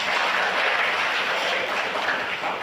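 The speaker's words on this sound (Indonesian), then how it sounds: "Tepuk tangan untuk Tuhan Yesus." A church congregation applauds during a sermon, a steady, even wash of clapping from a crowd, sustained and fairly distant throughout.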